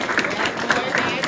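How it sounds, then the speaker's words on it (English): A brunch audience at a Carnival royal king's event claps for a short burst, the applause steady and fairly close, with speech tones mixed in. "So clap for yourselves"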